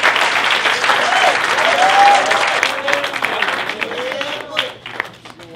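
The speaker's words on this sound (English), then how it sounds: "Please give yourself a round of applause." Studio audience applause at a school-themed talk show, broad steady clapping that dominates the first half, then thins and tapers with scattered claps, while voices and cheers ring out over it.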